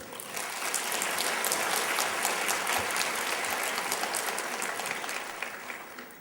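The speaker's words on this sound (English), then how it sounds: "let's give a warm round of applause to Yusuf Ismail" Audience applause at a debate on whether Jesus died by crucifixion, a steady, dense round of clapping from a full hall that holds evenly for about six seconds before tapering slightly.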